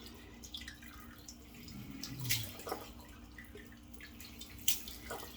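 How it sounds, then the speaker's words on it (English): Cold tap water splashed onto the face at a bathroom sink, with a running faucet and a couple of soft, close splashes and drips rising briefly over the steady flow. "I've already been running the cold water, so let me just splash that on."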